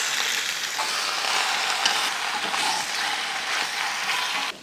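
Pork stir-fries in a dry clay pot with no oil added, giving off a close, continuous sizzle broken by scraping and clicking as the meat is stirred.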